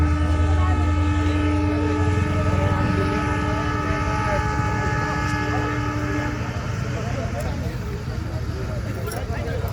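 A train on a test run on the new Vighanwadi to Rajuri railway line near Rajuri station rumbles loudly and steadily, its long sustained horn blaring for several seconds before fading into the ongoing rolling noise.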